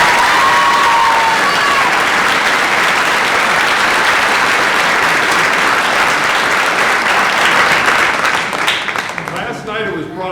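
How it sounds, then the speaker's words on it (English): A theater audience gives a long, loud round of applause mixed with crowd noise and scattered cheers, the clapping sustained before tapering off and thinning near the end. "So please, a nice round of applause."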